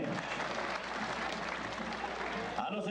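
Audience applause at a jaripeo rodeo tournament, a dense steady wash of clapping from a crowd, fairly distant, with a voice faintly underneath.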